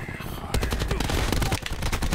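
Rapid bursts of automatic gunfire from a Black Ops 4 multiplayer match, dense and continuous with sharp repeated cracks that jump louder after the first half second, close and busy throughout.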